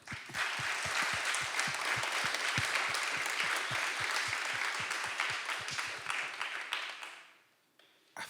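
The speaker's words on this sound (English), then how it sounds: "can we please give her a round of applause?" An audience at a London climate event breaks into sustained applause, dense steady clapping that carries on for several seconds before fading out quickly near the end.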